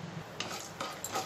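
Cumin and other tempering spices are stirred in hot oil in a pan, giving three scraping spoon strokes at an even pace over a soft background sizzle, close and fairly quiet.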